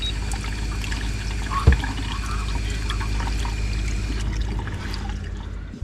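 Hot water pours steadily from a tap in a converted school bus, a constant rushing flow with a brief knock partway through and no voices.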